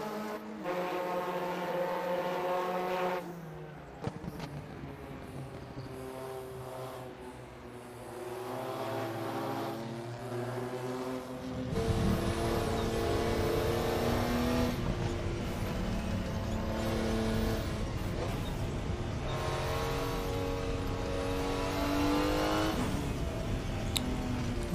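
Porsche and Lancia GTP prototype race cars in rFactor 2 at Le Mans, engines droning and rising in pitch through gear changes, one passing close and loud, with no talking.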